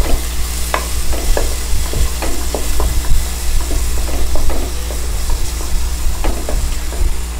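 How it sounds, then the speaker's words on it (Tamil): Onions fry in a pan with a loud, constant sizzle and hiss while a utensil stirs and scrapes them, producing scattered clinks throughout, up close with no talking. "ஆனியன் போயிட்டு லைட்டாக வதங்கட்டும்."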